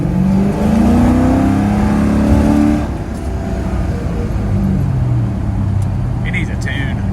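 A Chevrolet El Camino engine running on a cold winter start and in need of a tune, with a loud, steady low rumble and a brief rise in revs before settling lower.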